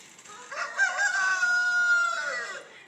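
A small game rooster crows once nearby, a single drawn-out cock-a-doodle-doo rising and holding for about two seconds before tapering off, clear and loud with little else around it.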